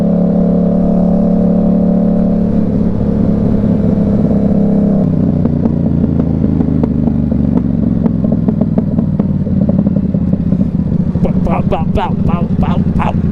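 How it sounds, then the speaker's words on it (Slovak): A Yamaha R7 motorcycle runs steadily while riding, its engine droning under continuous talk, with crackling exhaust pops building toward the end. "Mi to strieľa toho výfuku."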